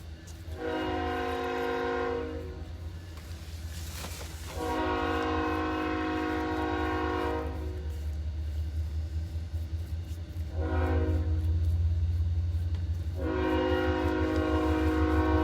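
Near a train station, a passing train sounds its horn in long, loud harmonic blasts, three or four separated by short gaps, over a steady low rumble of rolling cars.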